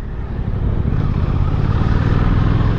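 A Suzuki GSX-8S motorcycle being ridden, its engine a steady low rumbling drone with wind rush, loud and close, no talk.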